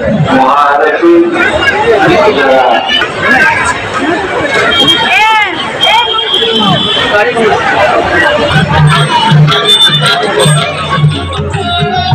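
Crowd bustle at the ISKCON Rath fair in Durgapur: dense, continuous chatter and babble of many voices with scattered calls and movement. A steady low drone rises toward the end, and people talk nearby throughout.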